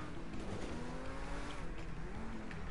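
A car drives in GTA Online, its engine droning steadily with a touch of tyre noise, loud and close throughout with no talking.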